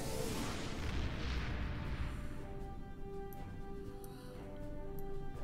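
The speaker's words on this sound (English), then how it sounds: "I've made some modifications to our torpedo." A modified torpedo fires in the space game Star Trek Online: a loud rushing, booming burst that swells then fades into a lingering rumble, with faint tonal hum beneath and no talk.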